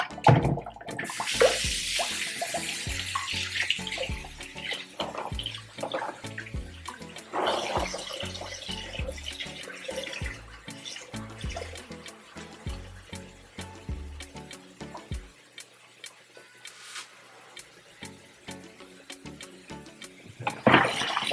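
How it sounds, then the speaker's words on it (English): Tap water runs steadily into a kitchen sink as onions are rinsed under it, a continuous close splashing stream with small clatters, easing off briefly near the end. "I'm going to come over here and get the onions out of here and rinse those off."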